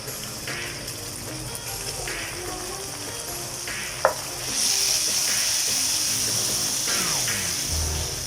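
Ginger-garlic paste fries in a pan for beef karahi, a continuous loud close sizzle that swells partway through, with stirring scrapes and a sharp utensil clink, no talking.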